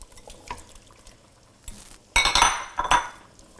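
A spoon stirs shrimp into a Northern Italian fish stew in a pot, with faint scrapes first and then a few loud clinks and scrapes of metal against the pot near the end, close by with no talking.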